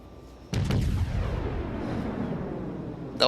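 Ship guns fire in a naval battle video game, a loud booming blast with a long rumbling decay, followed by the start of a second blast at the end.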